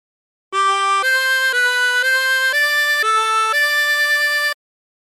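A 24-hole tremolo harmonica plays a short phrase of Aura Lee as seven sustained, wavering notes one after another, clear and close with no other sound.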